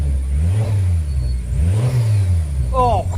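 A car engine revs up and down in two strong swells after a misfire has been fixed, heard close, with a brief voice near the end.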